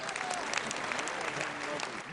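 Audience applause at a large concert show, a dense steady roar of clapping from a big crowd, loud and continuous across the short stretch.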